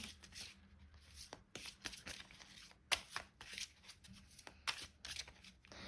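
Oracle cards being shuffled and drawn during a love-focused card reading, a quiet run of riffling and flicking card bursts with soft slaps, close and fairly faint, no talking.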